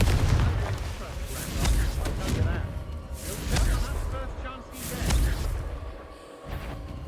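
Confringo fire spell explosions in the Hogwarts Legacy video game, several deep booming blasts with whooshing bursts at irregular intervals, heard among game sounds and voices.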